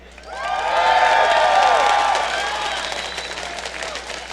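A large arena crowd at an esports match cheers and applauds for SK Gaming, a loud wall of clapping, whoops and shouts that swells quickly, holds, then slowly fades.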